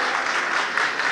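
Steady audience applause at an e-learning conference, dense and continuous clapping from a crowd filling the whole moment without talk.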